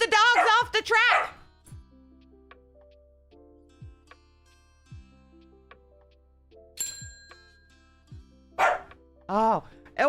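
Dogs bark in short sharp bursts, a cluster near the start and more toward the end, with a few tonal pings and quiet pauses in between.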